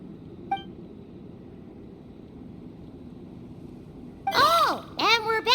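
Video game robot sounding off in a series of warbling electronic beeps and chirps, loud and near, after a quiet stretch with one short early blip over faint background noise.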